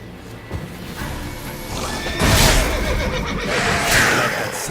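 Roach, a horse in The Witcher 3, neighs loudly twice, with hoof clops and movement between the whinnies, heard close up.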